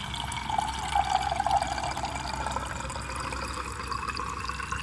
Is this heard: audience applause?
no